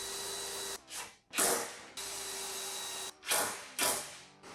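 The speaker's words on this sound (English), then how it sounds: "I drill a couple of screws in to hold it in place" A power drill drives screws into a pantry cabinet, with sustained high motor whines broken by short bursts of rising and falling speed, close and loud.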